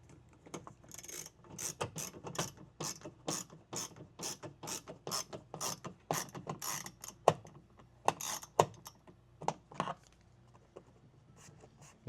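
A screw being tightened on a 2020 Nissan Rogue Sport reverse light, heard as a rapid series of sharp ratcheting clicks, close and fairly loud, in uneven bursts with brief pauses and no talking.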